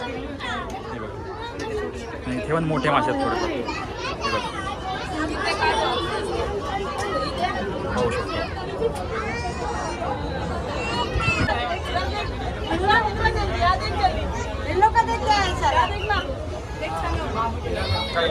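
Crowd chatter fills an underwater fish tunnel in Pune: a dense, steady babble of many voices, close and continuous, with a nearby speaker talking over it throughout.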